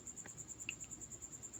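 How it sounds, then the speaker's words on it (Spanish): Crickets hidden around a house chirp quietly and steadily. Their rapid, evenly pulsed trill runs through the whole stretch, with a few fainter chirps off to the side and no talking. "se van a escuchar grillos que están escondiditos por allí"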